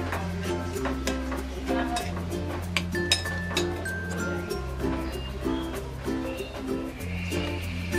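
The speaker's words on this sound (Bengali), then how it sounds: "এখন আমি সবগুলো মশলা মিক্স করে নেব।" Spices are stirred into whipped yogurt in a metal pan, producing light clinks and scraping of a utensil against the pan, with a steady low hum and a voice speaking underneath.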